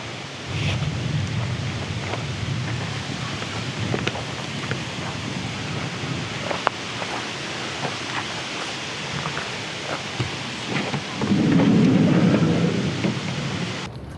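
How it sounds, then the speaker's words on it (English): Rain and a thunderstorm arriving in Nigeria: a steady wash of rainfall with occasional sharp drops and a low rolling thunder swell near the end. "the rain is here"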